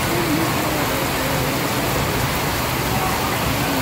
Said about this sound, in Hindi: अभी आप देखो कितनी तेज बारिश हो रही है।